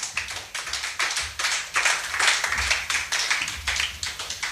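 A church congregation claps and applauds in praise of the Lord, producing a dense, steady patter of many hands that swells and dips in waves for several seconds, close and fairly loud, with no voices over it.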